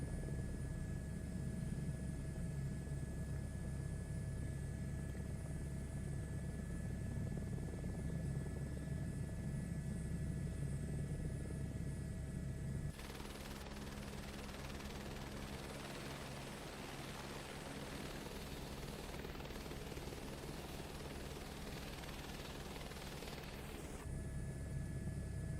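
A steady engine drone from an aircraft in Microsoft Flight Simulator 2024. It runs loud and continuous, then shifts to a different, brighter tone about halfway through as power is added.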